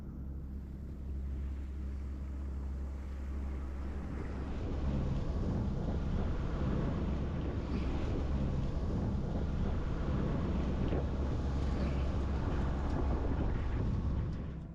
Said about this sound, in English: the wind is absolutely crazy at the moment